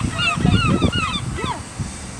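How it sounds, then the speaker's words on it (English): Seagulls calling near an abandoned railway line in Weymouth, a string of loud, close, yelping cries repeated over about two seconds above outdoor background noise. "Seagulls."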